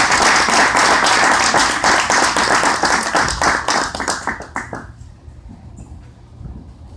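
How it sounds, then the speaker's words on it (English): A talk show audience claps for a guest, brisk overlapping applause that thins into scattered individual claps and fades to near quiet. "A round of applause for Miss Tracy Seals."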